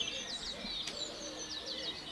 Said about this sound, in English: So now we're getting the birds to come in.